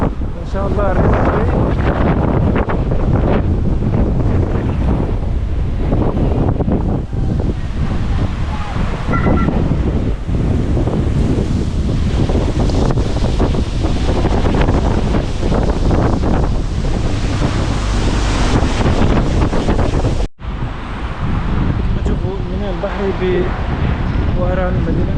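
Loud, buffeting wind blasting the microphone almost continuously in the city of Oran, Algeria, with a brief dropout near the end before the rumble resumes.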